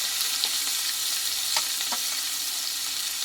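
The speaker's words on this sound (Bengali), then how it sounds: "মশলাটা একসঙ্গে ভালোভাবে কষিয়ে নেবো" Ginger, garlic and chili paste frying for a Bengali mutton curry, a steady broad sizzle with a few soft stirring scrapes, close and alone.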